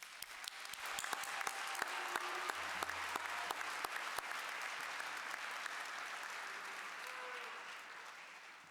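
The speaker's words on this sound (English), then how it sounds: "Can we have one more round of applause for all the graduates today?" A commencement audience applauds new university graduates at a winter ceremony, a sustained, even roll of many hands clapping in a large hall, with a few sharp nearby claps standing out early on.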